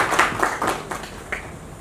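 Scattered audience applause at a Women Entrepreneurs Enclave event, a handful of claps at a moderate distance with a faint background, fading as it goes.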